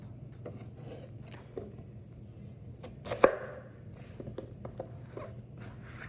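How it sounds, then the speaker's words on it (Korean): A knife chops zucchini into bite-sized pieces on a cutting board, a few soft, sparse cuts with one sharper knock near the middle, faint over a low background hum. "먹기 좋은 크기로 썰어서 준비해 주세요. 저는 6등분 정도로 썰어 주었어요."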